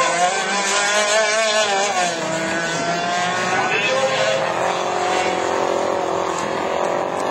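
A three-cylinder, front-wheel-drive Kia Rio Division 4 rallycross car races at Lavaré, engine revving hard through rising and falling gear pulls, loud and close, with a commentator talking over it.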